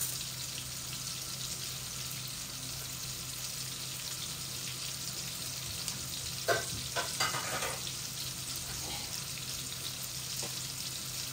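Whole dried red chillies, bay leaf, five-spice seeds and cumin sizzle in hot oil with a steady faint crackle, a few brief stirring clinks and scrapes breaking in midway.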